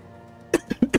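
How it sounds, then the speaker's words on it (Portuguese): Four short, sharp coughs from one person in quick succession, close and loud after a quiet moment, during a gameplay session. "Eita, que deu tosse agora."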